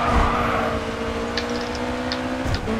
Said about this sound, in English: I can't hear you that well, the car's too loud.